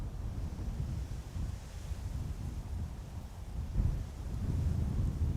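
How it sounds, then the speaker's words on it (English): Wind gusting across the open ground of Amsterdam Schiphol Airport, heard as a steady low rumble and buffeting against the microphone, faint and continuous, swelling slightly near the end. "Bit breezy."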